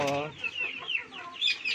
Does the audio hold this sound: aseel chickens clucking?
yes